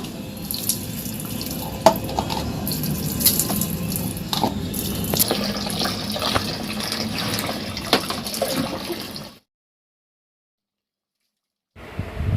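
Tap water runs steadily at a bathing spot while a child splashes and plays in it, a continuous close gush with scattered splashes that cuts off abruptly, then resumes briefly.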